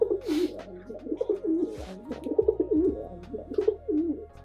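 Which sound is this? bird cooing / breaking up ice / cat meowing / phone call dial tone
bird cooing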